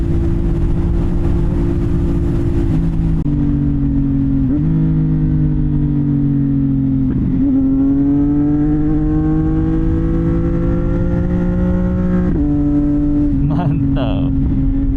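A 2025 CFMOTO 675 NK three-cylinder motorcycle engine hums steadily and loudly at close range, its pitch rising and dipping through gear changes and throttle shifts across the whole stretch.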